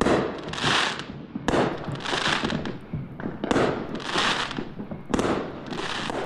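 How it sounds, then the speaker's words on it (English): Independence Day fireworks over the Los Angeles area explode in four loud, evenly spaced booms, and each blast trails off into a crackling, sizzling tail. "Last night, fireworks lit up the sky for Independence Day celebrations."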